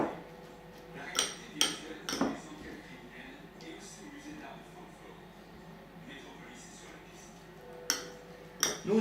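A utensil works poultry stuffing and a binding egg together in a bowl, giving a few sharp, scattered clinks against the dish over a quiet, steady background.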